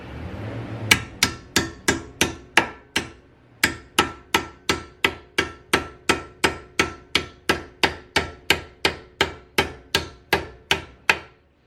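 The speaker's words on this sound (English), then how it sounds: "get a hammer." Steady hammer blows strike a snug part on an Honda EM1 Civic during a K-series engine swap, about two dozen sharp metallic hits in a regular rhythm, close and loud, with a brief pause after the first few.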